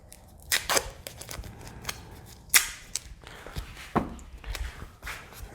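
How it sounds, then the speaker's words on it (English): Tape is pulled off a roll and pressed down to secure a part on a home-built combat robot, heard as a series of sharp close rips and taps at irregular intervals, with no talking. "use some tape to finish securing this right here"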